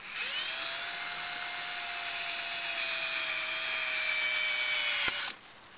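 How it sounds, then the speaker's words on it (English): Power drill boring out the plastic center of a clip tap on a Toyota Camry speaker grill cover, a steady high whine running about five seconds close up, then stopping abruptly. "we're going to drill the center of the tap out, and that will release these clips"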